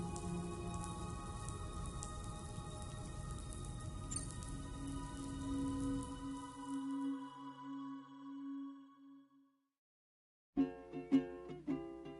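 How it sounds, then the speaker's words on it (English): Steady rain patters in the video game Death Stranding 2, a dense continuous wash with a low droning tone, fading away near the end before a few brief tonal notes cut in. "Those raindrops are falling on my head."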